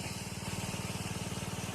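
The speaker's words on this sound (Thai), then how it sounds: "ใช้เครื่องสูบน้ำครับผมสามนิ้วครับพี่น้อง" A three-inch water pump driven by a Honda engine runs at a steady idle, a close, even chugging drone with a fast regular pulse throughout, used for washing a tractor, with no talking.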